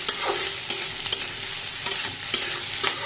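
Noodles with chopped green chilies stirred in a frying pan, a steady close sizzle broken by several scraping strokes of the spatula, with no talk.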